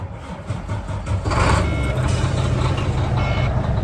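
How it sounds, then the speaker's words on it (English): A truck engine cold starts at about 35 degrees, cranking and catching, settling into a loud, steady diesel rumble, with an intermittent high beeping over it. "I always show me starting the truck"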